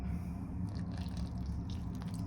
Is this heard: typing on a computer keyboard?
no